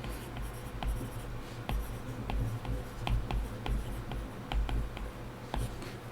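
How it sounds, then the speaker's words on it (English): A stylus or fingertip taps and strokes across an iPad glass screen while writing text in a notes app, soft quick ticks and scratches in an irregular rhythm, close and faint. "We'll write the text again with my palm off of the screen."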